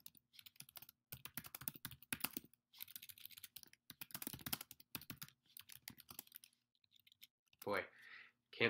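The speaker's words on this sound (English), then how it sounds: "Boy, can't type today." Keyboard typing in irregular bursts of key clicks, fairly faint, with pauses between runs and a brief louder sound near the end.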